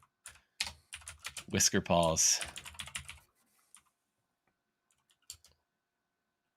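Typing on a computer keyboard produces a patter of clicks that runs under a man's speech, with a few isolated keystrokes afterward.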